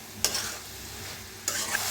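A spoon or spatula scrapes twice through a vegetable dish of dingri (mushrooms) with dal in a pan, two sharp stirring strokes over a low background sizzle, with no talking.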